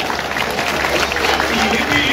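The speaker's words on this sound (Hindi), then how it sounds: "तालियां बजाओ।" Audience applause at an all-India humorous satire poet conference in Wardha, a dense steady wash of clapping from a large crowd filling the hall, with a voice faintly underneath.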